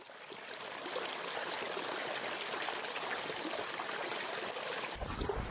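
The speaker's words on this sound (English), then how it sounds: "it is absolutely pouring down still" Heavy rain pours down on Loch Shiel in Scotland in wild weather, a dense, constant hiss of rainfall with no pauses, loud and close.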